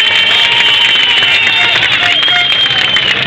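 A crowd applauding the winner at the Rally Shipka 2015 award ceremony: loud, dense, steady clapping with crowd noise, continuous throughout, and a voice faintly audible beneath.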